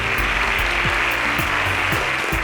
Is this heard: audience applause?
yes